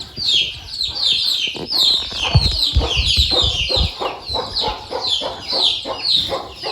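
Chickens kept outdoors with young chicks nearby, clucking and peeping continuously in a busy, close chorus of repeated short calls.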